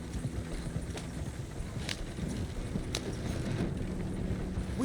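Horse hooves clip-clopping at a gallop in the Red Dead Redemption 2 video game, a steady rhythmic run under a continuous low rumble of wind and movement, with no talk.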